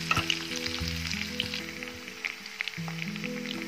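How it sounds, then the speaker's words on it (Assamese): Onions frying in oil in a pan give a steady crackling sizzle with a few sharper pops and spatters, close and moderately loud, with no talking over it. "লাল হোৱালৈকে ভাজিম"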